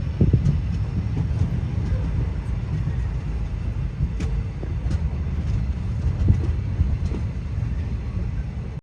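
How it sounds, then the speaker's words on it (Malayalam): Tinsukia–Ledo train running into Ledo railway station in Assam, a steady low rumble of the moving train with occasional light clanks and knocks. "ന്യൂ തിൻസൂക്യ ജംഗ്ഷനിൽ നിന്നും 55 കിലോമീറ്റർ യാത്ര ചെയ്ത് ട്രെയിൻ ഇതാ ലിഡോ റെയിൽവേ സ്റ്റേഷനിലേക്ക് എത്തിക്കൊണ്ടിരിക്കുകയാണ്."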